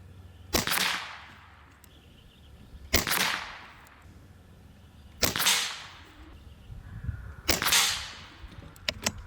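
Four sharp cracks from a Webley Nemesis-X PCP air rifle firing JTS 18.1 grain pellets, spaced a couple of seconds apart, each a loud close snap with a short decaying tail and quiet background between.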